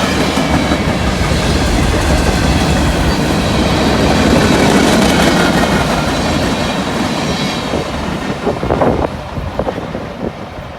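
A freight train with a Southern Pacific Hydra Cushion boxcar and a Southern Railway grain hopper rolls past close by, a steady loud rumble with clickety-clack from the wheels and wind buffeting the microphone, easing slightly toward the end.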